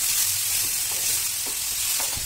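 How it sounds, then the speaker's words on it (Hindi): Peas stir-frying in a pan over a high flame while making veg chow mein, giving a steady sizzle with soft intermittent stirring scrapes, close and moderately loud, with no talking. "हाई फ्लेम पे हम पका रहे हैं और अब हम इसमें अपना मटर ऐड करेंगे।"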